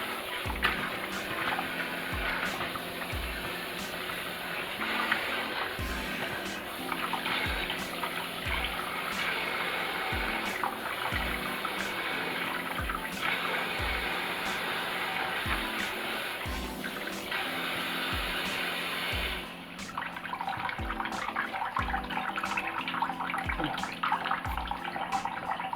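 Cool water runs from a kitchen tap in a steady close hiss, with repeated low knocks and clatters of pork neckbones being handled and rinsed under the stream.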